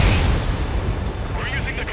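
A destroyed target explodes in the Ace Combat 7 air combat game with a deep, booming rumble lasting about two seconds, partly under radio-style chatter.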